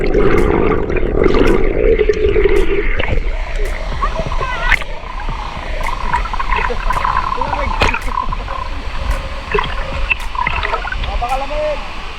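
Dibulo Falls in Isabela pours with a steady, loud rush and splash of water, close by, while voices talk over it.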